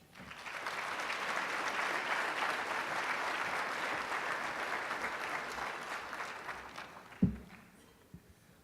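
Sustained audience applause at a law school awards event, loud and steady for about seven seconds before tapering off, with a sharp thump near the end.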